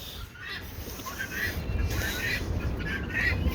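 Guinea fowl upset in their pen on a homestead, calling in short repeated squawks and cackles at a moderate distance over a constant background hiss.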